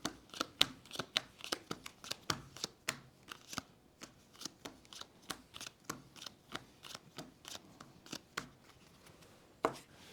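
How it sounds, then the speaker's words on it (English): Playing cards being dealt out one by one for a solo Lord of the Rings trick-taking card game, a quick series of crisp snaps and slides close by, with short pauses between. "There's my lost card, and then I deal out my hands."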